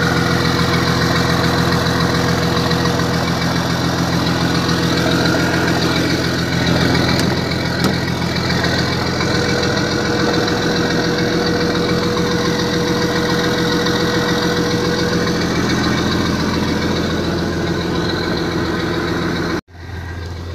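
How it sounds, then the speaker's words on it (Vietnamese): A Hitachi EX200-2 excavator's diesel engine idles steadily and loudly for about twenty seconds, a continuous rumbling drone with slight knocking, until it cuts off abruptly near the end. "Đây thì mới nổ máy cái xe nè mọi người"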